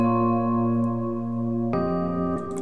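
A Rhodes electric piano patch from Omnisphere with its normal attack, a held chord ringing for nearly two seconds before shifting to a new chord, clean and close with no talking.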